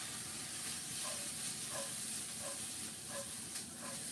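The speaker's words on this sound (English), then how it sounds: "So this is just a little saute on the onion." Onions sauté in a pan with a quiet, steady sizzle and hiss, plus faint periodic scraping of stirring, soft and close.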